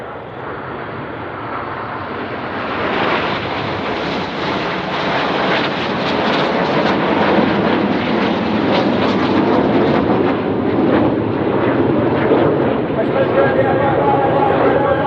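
Red Arrows jets fly a formation display at RIAT 2025 with air brakes out, a loud sustained roar that swells and rumbles as they pass, with a commentator talking over it.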